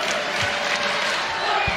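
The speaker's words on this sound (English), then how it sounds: "Tremendous crowd here on a Saturday afternoon." Volleyball arena crowd at a women's match, a steady dense roar of cheering and chatter filling the hall without pause.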